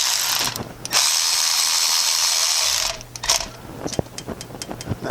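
Ratchet tightening a bolt on the thermostat of a 2014 Maserati Ghibli, a steady buzzy ratcheting run for about two seconds, then scattered sharp clicks and small metallic taps close by.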